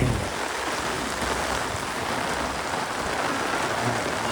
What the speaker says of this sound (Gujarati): ફૂલ વરસાદ ચાલુ હે. ધબધબાટી બોલાવી દીધી આજ વરસાદે.